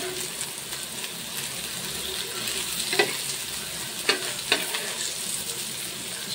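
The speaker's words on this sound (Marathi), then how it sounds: "तर अशा प्रकारे आपले कारले फ्राय झालेले." Stuffed bitter gourd (karela) fries in a pan with a steady, soft sizzle, broken by a few brief clicks and stirring knocks near the middle and end.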